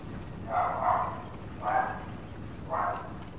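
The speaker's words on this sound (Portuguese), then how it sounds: "Agora meu cachorro resolvendo latir ali" A dog barks three times, distinct evenly spaced woofs heard from a short distance over a low background hum, with no talking.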